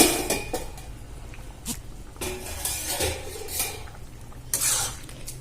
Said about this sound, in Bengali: আমি ঢাকনাটা খুলে দেখে নেব।